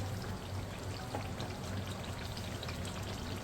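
Cooked black chickpea curry is poured, giving a soft, continuous wet splashing and trickling that stays faint and even throughout, with no talking.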